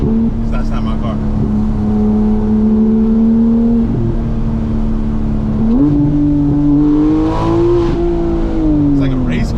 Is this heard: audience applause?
no